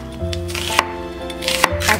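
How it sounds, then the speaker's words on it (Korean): A knife chops onion on a cutting board for kimchi-jjim, with a few sharp, distinct board strikes spaced through a short stretch close by. A steady low hum runs underneath. "양파를 썰어주고"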